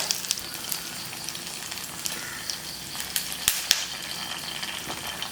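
Onions, curry leaves and a small piece of tamarind sizzle and crackle steadily in hot oil close by, with scattered sharp pops and no talking.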